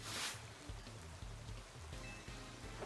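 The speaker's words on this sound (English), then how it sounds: "Rain. It's finally here." Steady rain falling in Pokemon Legends Z-A, a continuous soft hiss of drops that runs the whole time, with low music-like tones underneath and no voices.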